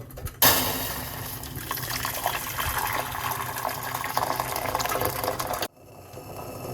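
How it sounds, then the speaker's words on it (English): Hot water pours steadily into a medium-sized pot for about five seconds, a loud continuous splashing fill that starts abruptly and cuts off cleanly, with no talking. "So we got the medium-sized pot. I'm gonna pour some hot water."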